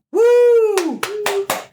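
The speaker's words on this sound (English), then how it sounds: "We all clapped." A rising whoop from a voice, then a few crisp, close hand claps from two people in a quiet podcast studio, sounding sparse and a little uneven.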